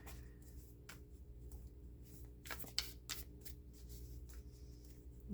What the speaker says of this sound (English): I pre-shuffle the cards during my meditation, but I like to shuffle also as I connect to your energies of the collective.